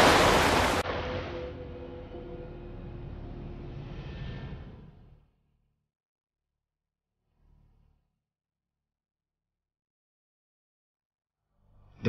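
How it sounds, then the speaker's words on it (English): On a rising tide, seawater roars through the narrow channel between the islands of Jura and Scarba, a loud broad rushing wash that fades after about five seconds into near silence with faint distant swells. "The rising tide is now funneling a huge volume of water through the narrow gap between the islands of Jura and Scarba."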